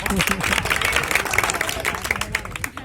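An audience claps through a comedy and magic show, with steady, dense applause under someone talking loudly over the crowd.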